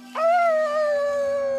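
A voice imitating a wolf howl inside The Last of Us Part II, one sustained tonal howl that rises abruptly and then holds level and loud for over a second over a constant low hum.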